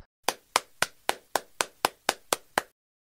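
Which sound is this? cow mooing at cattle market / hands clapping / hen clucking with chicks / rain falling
hands clapping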